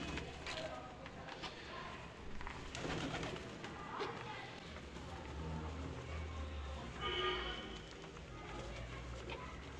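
Pigeons on a balcony coo softly while being fed, with low, faint, repeated cooing over a quiet background and some murmured talk.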